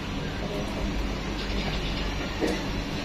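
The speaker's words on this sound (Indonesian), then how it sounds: "Seperti inilah teman-teman suasana MRT" Inside a moving Singapore MRT train carriage, a loud, continuous rumbling roar of wheels and running gear fills the space, with faint mechanical rattles and clicks over the steady drone.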